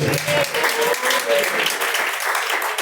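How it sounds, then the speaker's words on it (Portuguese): Congregation clapping during a lively church service, dense rhythmic handclaps in the room with faint voices and a brief tonal sound mixed in. "Palmas que louvam o nome do Senhor"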